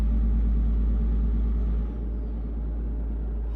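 Heavy truck engine from an engine sound mod in a truck driving simulator game, a steady loud low rumble with a faint whine that dips slightly partway through, with no talk.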